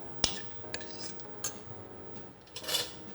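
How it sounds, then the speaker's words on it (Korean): Sliced zucchini with salt is stirred in a pan, giving a few sharp metallic clinks and scrapes of a utensil against the pan, close and quiet between the hits. "소금 넣어주시고 잘 저어준 다음에"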